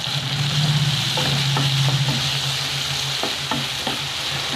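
Onion-based masala for egg methi bhurji sautéing in a pan, a steady close sizzle with intermittent spatula scrapes and taps across the pan, loud and continuous with a low hum underneath.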